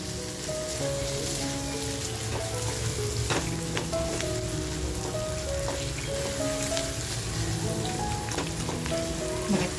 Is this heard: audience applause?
no